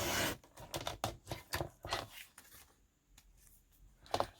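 A blade slicing through old book pages, heard as a close run of crisp, rhythmic scraping cuts that pause briefly and then end with one last sharp stroke.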